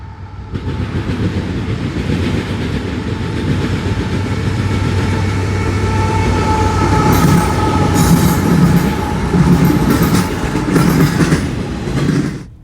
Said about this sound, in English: And finally, a CSX intermodal with 3 GEVOs.